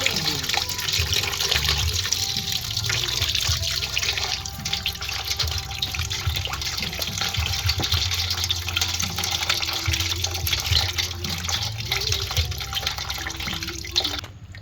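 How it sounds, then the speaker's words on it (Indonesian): Water runs steadily into the radiator reservoir of a Chevrolet Captiva FL diesel, a continuous splashing trickle like a filling tap with small drips, at moderate level throughout. "masukkan air"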